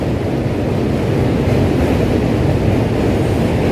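A continuous heavy rumble of subway trains crossing the Manhattan Bridge close to the walkway, loud and unbroken, with wind buffeting the microphone and no one speaking.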